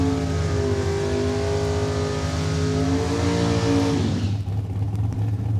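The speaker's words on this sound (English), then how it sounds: "And Richard Skopik heating up the rear wheels." A drag race car revs hard at Saskatchewan International Raceway while heating up its rear wheels in a burnout. The engine holds a loud, close, steady roar, then drops sharply to a lower idle near the end.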